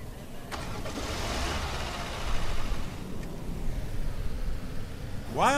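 A car engine starting in the video game A Dusty Trip, a dull broadband rumble and hiss that holds steady and swells slightly, with a brief sharper burst near the end and no talking.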